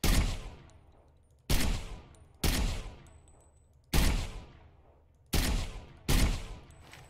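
Bodark weapon gunfire in Ghost Recon Phantoms: six loud, sharp single shots at uneven intervals, each followed by a ringing, decaying echo, with no talk.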